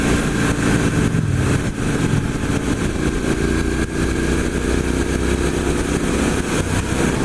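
A 2017 Triumph Street Scrambler motorcycle engine runs steadily and loudly throughout, with a constant low rumble and an even idle and no talking.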